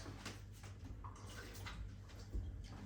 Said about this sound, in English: So let's start by getting some water into your Instant Pot.